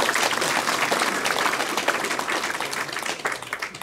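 Audience applause at a provincial governor's town briefing in Jecheon, Korea: a dense, loud burst of many hands clapping together, sustained and gradually easing off.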